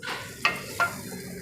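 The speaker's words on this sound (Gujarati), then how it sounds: "આ વઘાર આપણે ડાયરેક્ટ આમાં રેડી દઈશું" Hot tempering hits dal for Rajasthani dal baati, giving a close, bright hiss with two sharp bursts of sizzle as it is poured in, then fading to a softer crackle.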